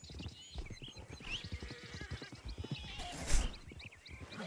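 In Red Dead Redemption 2 roleplay, horse hooves clip-clop in an uneven rhythm with a brief whinny and snort, set among faint background game sounds.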